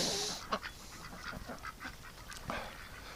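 Ducks kept in a winter pen give repeated nasal quacks, several birds calling over one another close by, with no voices.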